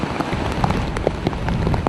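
Heavy rain from a tropical storm in Southeast Asia, a dense, steady patter of drops striking surfaces with scattered sharper splashes, close and continuous.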